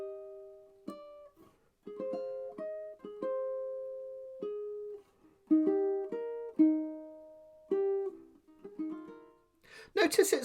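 A ukulele plays a fingerstyle passage from a song very slowly: single plucked notes and small chord shapes ring out one after another with gaps between phrases, close and clear, ending in a brief burst of noise.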